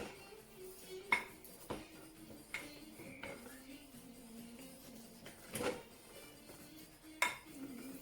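A Tupperware potato press works cooked potatoes into mash, giving quiet close clicks and plastic clatter with a few sharp knocks spaced out over a low background.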